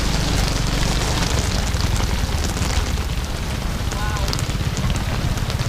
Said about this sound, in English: Look at that rain out the back.